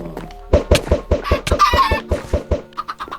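Rapid, evenly spaced clucks from Minecraft chickens, close and clear, with a few softer blips at the end, no voices.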